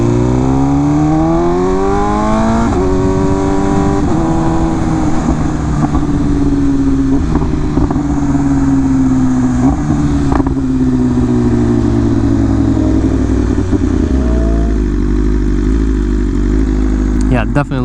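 A 2023 BMW M1000RR motorcycle rides past on a street, its loud engine note rising and falling through the gears with several shifts, close and sustained throughout, with a voice talking over it.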